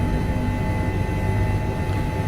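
An H145 helicopter flies in Microsoft Flight Simulator, its engine and rotor making a steady, loud, broadband roar that holds constant and dense with no speech over it.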